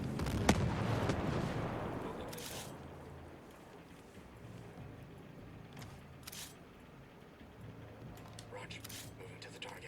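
Gunfire in the video game Ghost Recon Breakpoint opens with a loud, heavy burst, then scattered fainter shots and rumble follow, with voices talking over the action.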